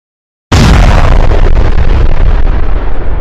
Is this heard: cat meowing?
no